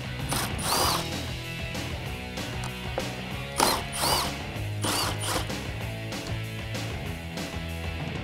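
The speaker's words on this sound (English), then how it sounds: "Pull those 3 bolts out, the whole fog light comes out" A ratchet tool removes 7mm bolts from the fog light bracket of a 2015-2017 Ford Mustang, giving repeated close clicking runs in several bursts with metallic clinks between them.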